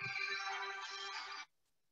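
A phone rings out with a bright electronic ringtone during a rabbi's lecture, sounding for about a second and a half before cutting off into silence.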